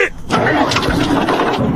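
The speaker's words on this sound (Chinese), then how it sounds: "启动发动机" A boat engine cranks briefly, then catches and runs with a loud, close, rough rumble.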